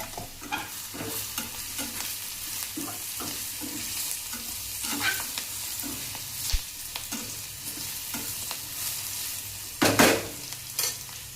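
Okra frying in a pan with turmeric and salt, a steady close sizzle broken by repeated scraping stir strokes and a louder clatter near the end, with no voices.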